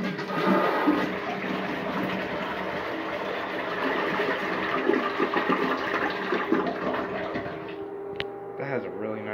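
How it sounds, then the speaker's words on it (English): A Wannbe Citations toilet flushes with a strong, steady rushing roar of water that lasts about eight seconds, then tapers into a brief gurgle and refill trickle at close range. "That has a really nice flush."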